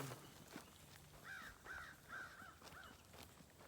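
Several crows caw in a steady series of hoarse calls, a little distant, over a faint outdoor background rumble in a field in Withlacoochee State Forest, Florida.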